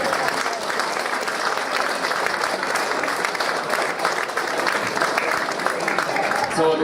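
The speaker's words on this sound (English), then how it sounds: "the tremendous work. A round of applause." An audience breaks into loud, sustained applause at a heritage event, a thick wash of many hands clapping without pause, close and continuous.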